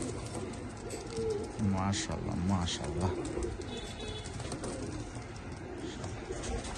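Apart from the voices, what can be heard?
Pakistani Sialara teddy pigeons cooing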